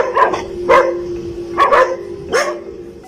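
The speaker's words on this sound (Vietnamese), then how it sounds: "đó là những tiếng chó sủa kia" Dogs bark in four sharp bursts spaced irregularly over a steady tonal hum, fairly close and loud, with no talk, heard during a real-life ghostly apparition scene.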